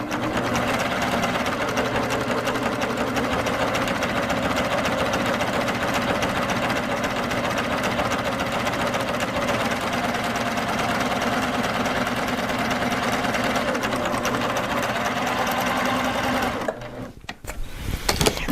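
A Baby Lock Applaud sewing machine stitches steadily along a fabric edge against a guide, using a long stitch length, in a fast continuous mechanical hum that runs alone and stops abruptly near the end.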